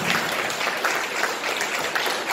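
Dense, steady applause from a church congregation welcoming guests, continuous clapping filling a short stretch without speech.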